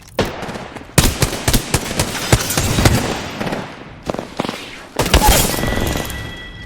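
Rapid gunfire in the Doom Eternal video game, loud bursts of shots and blasts with short pauses between volleys, some sharp cracks and booming impacts.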